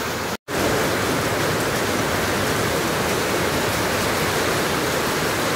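Heavy typhoon rain from Kong-rey in Taiwan pours down as a dense, steady roar that fills the whole clip, broken only by a brief dropout near the start, with no talk over it.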